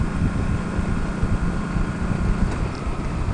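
A Kawasaki Vaquero motorcycle cruises at night in 4th gear at 70 mph around 3,700 RPM, giving a steady loud engine drone buried under heavy rushing wind, with no talking.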